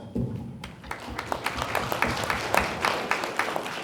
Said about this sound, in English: So round of applause to yourselves.